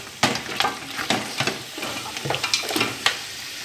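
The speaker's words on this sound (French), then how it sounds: "On continue à frire notre viande." Meat fries in a pan for a Cameroonian peanut and okra sauce: a steady close sizzle broken by several sharp scraping and clattering strokes as it is stirred, with no voices.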